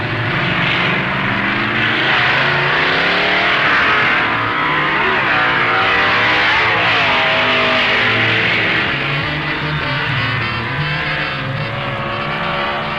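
Drag racing cars at the 1969 NHRA US Nationals roaring down the strip, a loud continuous engine blare with shifting pitch sweeps as the cars pass, heard from trackside.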